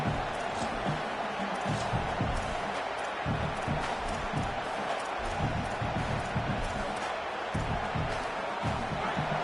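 Stadium crowd in the College Football 27 video game roars in a continuous dense wash, rising and falling with scattered shouts, loud and close throughout.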